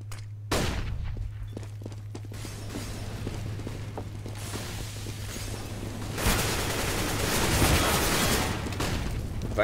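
Rapid bursts of gunfire and clattering mechanisms in a competitive Counter-Strike style esports match, sharp shots spraying in quick succession over a low steady hum, with louder dense firing near the end.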